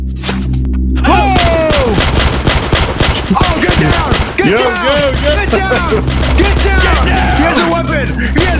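Rapid bursts of video-game gunfire rattle out close and loud in a scary multiplayer game, with booms and thuds among the shots, while several players shout over the shooting.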